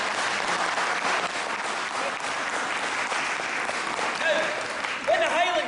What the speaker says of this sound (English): I'd like everybody to give Emily a big cheer and a big round of applause